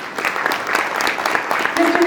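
An audience gives steady, close applause for an award recipient at a peace awards ceremony, a dense continuous patter with voices mixed in.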